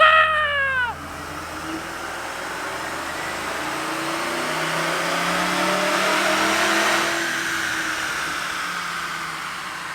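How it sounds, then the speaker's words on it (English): A Magnuson-supercharged 2024 C8 Corvette's engine revs up in a loud, sustained run that swells through the middle and eases toward the end, with a rising whine at the start. "time to profile the Magnuson Supercharged C8"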